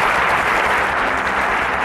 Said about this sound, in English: a round of applause for Prince